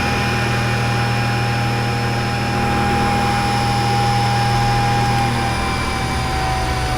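An SCM T110 shaper with a Delta four-roll power feed running, a loud steady mechanical hum and whine that holds evenly throughout, close by with no talking.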